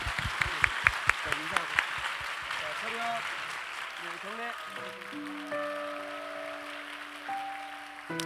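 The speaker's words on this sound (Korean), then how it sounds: "우리 박수하겠습니다" A short burst of scattered hand claps from a church youth group audience, fairly close, fading within about two seconds before a person speaks over quiet room tone.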